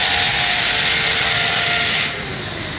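Angle grinder cutting through a WPC fluted wall panel during installation, a loud continuous high-pitched whine that holds steady, then drops slightly in pitch and level near the end as the cut finishes.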